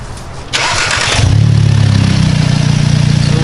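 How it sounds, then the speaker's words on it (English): A 2017 Audi S3 fitted with an Integrated Engineering intake and catback exhaust cranks and fires up close by. A brief starter whir gives way to a loud rev flare that settles into a steady, throaty idle. "Why don't you get us a little startup, see if we can hear any cool intake noises."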